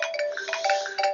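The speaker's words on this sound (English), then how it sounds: "At the top here, you can modulate the sound of your ring as an alert." A bright, melodic iPad ringtone plays alone, a short run of chiming tones repeating in quick succession at steady volume.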